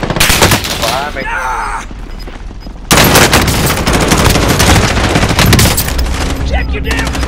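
Loud bursts of automatic gunfire in a Call of Duty match, rapid dense volleys with a short lull in the middle before heavy firing resumes and continues to the end.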